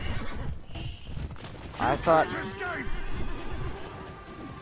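In the video game For Honor, a horse whinnies loudly mid-clip while hooves clip-clop in a galloping rhythm underneath, with a player's voice talking briefly over the game sound.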